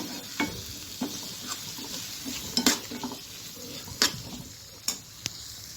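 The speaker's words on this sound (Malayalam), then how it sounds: "ഇതിലേക്ക് നമുക്ക് വേവിച്ച് വെച്ചിരിക്കുന്ന കടല ചേർത്ത് കൊടുക്കാം. ഇത് നന്നായിട്ട് ഇതിലേക്ക് ഇളക്കി ഒഴിപ്പിച്ചെടുക്കാം." Cooked chickpeas being stirred into masala in a pan, a spoon scraping and clinking against the metal several times over a steady sizzle.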